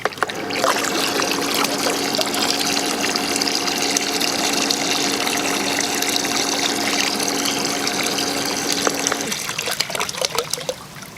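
A pool sand filter pump runs with water flowing through it, a loud continuous hum and rushing flow close by that stops near the end.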